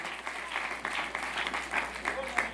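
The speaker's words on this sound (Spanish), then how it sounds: "Dale ese aplauso al Rey de Reyes y Señor de Señores." A church congregation applauds in praise during a sermon, a steady patter of many hands with voices woven through it.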